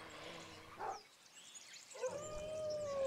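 A dog howls in the survival video game Survival: Fountain of Youth, with a short tonal cry near the start and a longer, sustained howl rising out of the game's ambient background.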